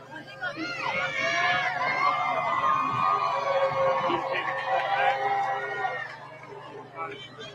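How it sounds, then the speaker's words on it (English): A cheer squad of fourth and fifth graders at the 2022 Macon Christmas Parade chants and shouts together loudly and close by, the young voices held for about six seconds before fading out. "That's who we see cheering right now."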